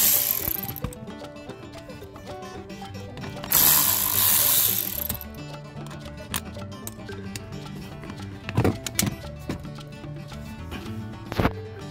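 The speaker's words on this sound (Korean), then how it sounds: "여기 보시면 10mm 두 개 있어요. 두 개 풀러 주시고요." A ratchet wrench unscrewing two 10mm bolts on a Renault QM5 cover, with bursts of clicking ratchet strokes separated by pauses, close and fairly loud, plus a few sharp metallic knocks.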